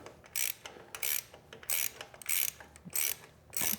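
A wrench works a 17 mm bolt on a Triumph Scrambler 1200 XE engine crash bar, producing six regular bursts of metallic ratcheting clicks, close and distinct, with short pauses between them.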